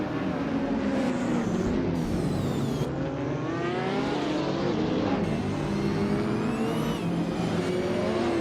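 Several race cars in a racing video game scream off the start line together, engines revving hard with rising and falling pitch sweeps through gear changes, loud and close, with a faint tire squeal.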